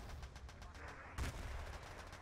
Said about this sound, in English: We hear the artillery going off.